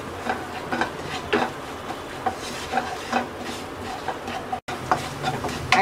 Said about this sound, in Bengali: তেলের মধ্যে মশলাটাকে 1 মিনিট কষিয়ে নেব।